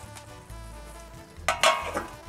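Shrimp sizzling and frying in a pan, a steady crackle broken near the end by two louder bursts of spatter as the pieces are stirred or flipped, with no talking.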